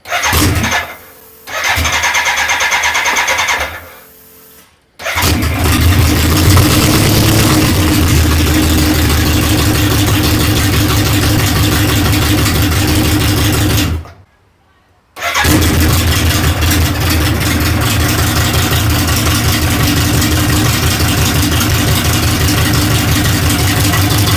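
A 1983 BMW K100 motorcycle engine cranking briefly, cutting out, then firing up and idling loudly and steadily up close, with a short stall and restart midway.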